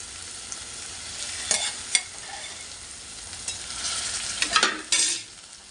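Drumstick pods being sautéed in a pan, with a steady low sizzle and a few sharp stirring scrapes and clatters rising near the end; no voices.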